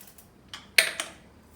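A torque wrench tightening a Hollowtech bicycle crank gives a couple of sharp, close metallic clicks, one prominent snap followed quickly by a lighter one, with a faint tick before them.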